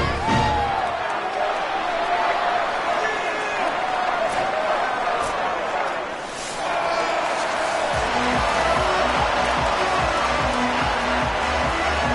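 A broad, steady roar from a home stadium crowd in a college football video game, Florida Atlantic hosting UTSA, holds loud and dense throughout, dipping briefly midway before swelling again as kickoff nears.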